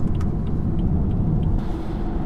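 A 2017 BMW 335d diesel car cruising on a motorway, its engine and road rumble forming a steady, loud low drone from inside the cabin, with faint brief ticks over it.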